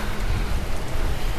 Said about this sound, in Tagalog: nag-uulan na siya at malakas na rin yung hangin